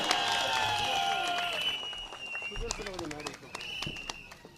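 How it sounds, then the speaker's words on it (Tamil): Applause from a crowd at a district youth wing anniversary rally in Thoothukudi, Tamil Nadu. Claps break out over a loud, tonal background of voices and sound, then become sparse scattered claps mixed with crowd noise. "நமது மாவட்ட இளைஞரணி செயலாளர் பிரேம்பாண்டியன் அவர்களுக்கு பலத்த கரகோஷத்தை எழுப்புமாறு கேட்டுக்கொள்கிறேன்"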